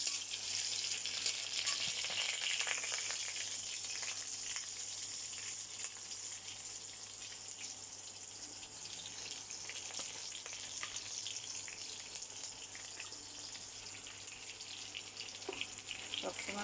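Onions frying in hot oil for a vegetable dish, a steady hissing sizzle that holds at an even level throughout, with faint clinks and stirring noises.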